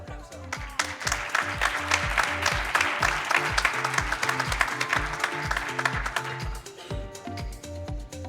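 Audience applause at an award ceremony for a research and innovation prize, sustained dense clapping from a seated crowd over steady rhythmic background music with a thumping bass beat.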